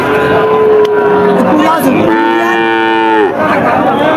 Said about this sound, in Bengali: আপনারা দেখতে পাচ্ছেন এই যে সামনে একটা গাভীর সাথে বাছুর